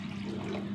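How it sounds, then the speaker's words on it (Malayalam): Water is poured into a simmering fish curry in a home kitchen, heard as a short, steady splashing gush that lasts under a second. "വെള്ളം ഒഴിച്ച് കൊടുക്കാം കേട്ടോ."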